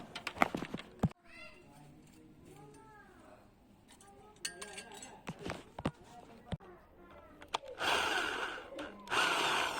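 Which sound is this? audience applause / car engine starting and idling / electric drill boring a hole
electric drill boring a hole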